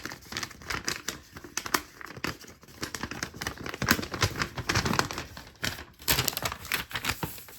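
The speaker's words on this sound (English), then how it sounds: "I'm just opening up the pamphlet right now" Plastic packaging and a paper pamphlet from a Beyblade X Soar Phoenix 5-80H booster pack are opened up close, giving a busy run of crinkling, tearing and rustling with sharp tapping clicks, no talking.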